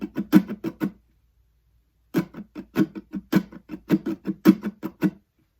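Guitar strumming pattern five for a live looping song rings out close and clear: a quick burst of strums, a pause of silence, then a longer rhythmic run of accented strokes.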